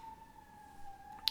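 An emergency vehicle siren wails as a steady, slightly falling tone, faint and somewhat distant, held for about a second with a brief brighter chirp at the end.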